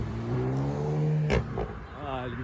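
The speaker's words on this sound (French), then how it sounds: "Vas-y, accélère." Car engine revving as the driver accelerates, a rising tonal whine that climbs over about a second, then a sharp thump and a second climbing rev near the end, with voices in the car.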